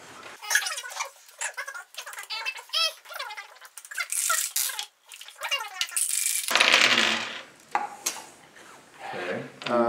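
Dice clatter and rattle during a Yahtzee board game, sharp bursts of clicking against a hard surface that come and go over several seconds, with a louder tumbling stretch midway.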